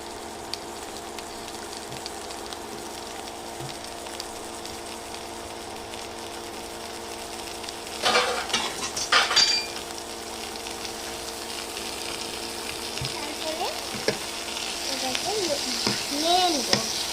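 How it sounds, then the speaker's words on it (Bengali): Pointed gourds (potol) fry in oil in a pan with a continuous low sizzle. The crackle swells briefly when the pieces are stirred or shifted, and a voice can be heard faintly near the end. "তেল গরম না হতে পটলগুলোকে ছেড়ে দিব।"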